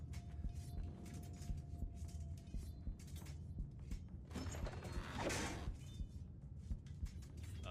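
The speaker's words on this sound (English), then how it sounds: "these characters hear the sound of a door open" A door creaks open in a fantasy tabletop role-playing scene: a slow mechanical groaning creak with rumbling undertones, swelling in the middle and fading, heard alone without talk.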